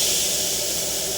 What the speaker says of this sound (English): Oh yeah, you hear that thing sizzling.